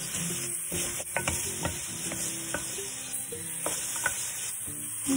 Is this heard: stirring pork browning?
yes